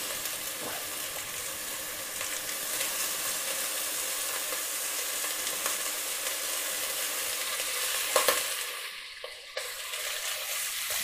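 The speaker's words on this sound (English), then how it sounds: "so we're now going to add the beef back to the pot." Beef for a beef and bacon pie, returned to a pot over caramelized ingredients, fries with a loud, steady hiss and crackle; a brief clatter of stirring breaks in near the end.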